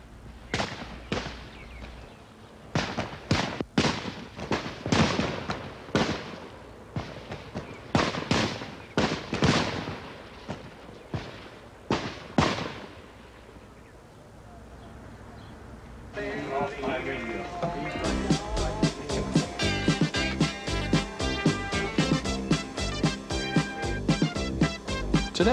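Rifle shots crack out one after another at an Army basic training qualification range in the 1980s, sharp and loud in an irregular string, before music takes over.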